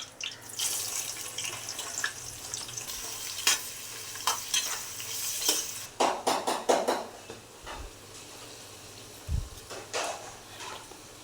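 Four large, coarsely cut onions for a mushroom biryani fry in a pan, a continuous sizzle broken by scraping stirs and a cluster of clattering knocks near the end, with no voices.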